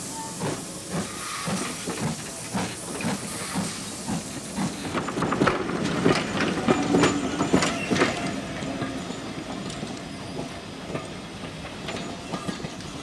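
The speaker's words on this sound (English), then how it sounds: "Lytham Manor, a Great Western 460 locomotive built in 1950," A 1950 Great Western steam locomotive, Lytham Manor, hauls a train in the South West of England, with steady steam hiss and rolling, rattling wagon clatter that swells in the middle and stays fairly close, with no talk.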